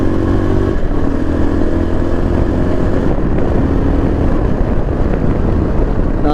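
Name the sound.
Yezdi Adventure motorcycle engine running after downshift to fourth gear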